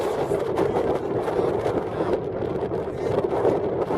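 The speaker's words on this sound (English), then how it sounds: "Bad thing, this is a headwind." Steady, rumbling wind of over 20 miles an hour buffeting the microphone on Mt Meeker, Colorado, a strong headwind, loud and continuous with no speech.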